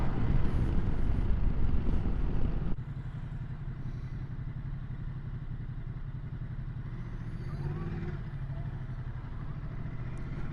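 Ducati Multistrada 950S motorcycle engine running steadily while riding, a loud continuous low drone with a sudden drop in level partway through and a brief rising whine near the end, no voices.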